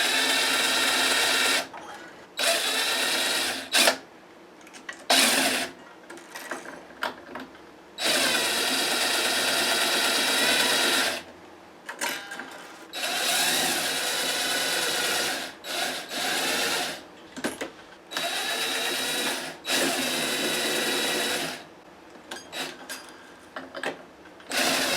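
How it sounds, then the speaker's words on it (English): Strings and hardware being stripped off an electric guitar on a workbench, probably a 335-style model with a Tone Pros bridge: loud bursts of buzzing, whirring activity in separate runs with short pauses between them, and no voice. "Strip off the strings and hardware."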